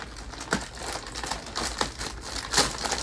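Plastic wrapping being cut and pulled away from a Casper memory foam mattress, close crinkling and rustling with a few sharper snips and tears, no talking.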